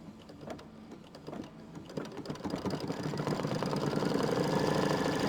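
An embroidery machine stitches a placement line for a glitter vinyl appliqué, a steady rapid mechanical chatter that builds and grows louder through the clip, close by with no talk.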